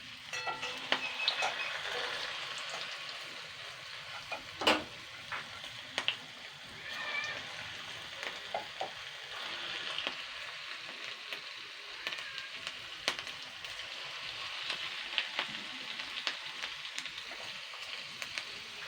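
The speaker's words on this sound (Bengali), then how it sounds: "মিডিয়াম তেলেই কিন্তু এগুলো ভাজতে হবে" Okra pakoras fry in medium-hot oil, a soft, continuous bubbling sizzle close by, with occasional sharp taps and stirring scrapes.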